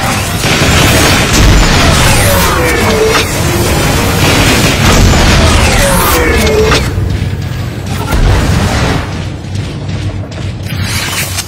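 Sentry guns in Transformers: War for Cybertron fire and blow apart in heavy, loud booms and crashes, a sustained barrage of metallic impacts and explosions that thins out toward the end.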